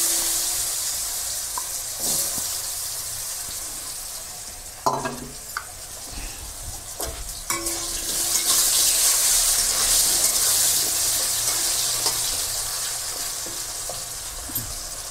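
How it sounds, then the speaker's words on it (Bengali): Potatoes frying in hot oil in a wok, a steady close sizzle with occasional stirring clatter, growing brighter and louder after the halfway point, with no talk. "তেল গরম হয়ে গেছে, আলুগুলো দিচ্ছি।"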